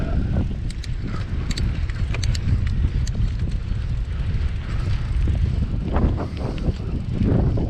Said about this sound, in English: I'm fighting against the wind so bad.